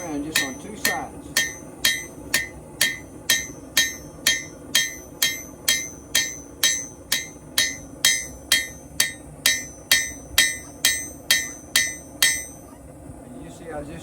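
A blacksmith hammers hot metal on an anvil to taper it, a fast even run of about twenty sharp ringing strikes close to the microphone, then stopping near the end.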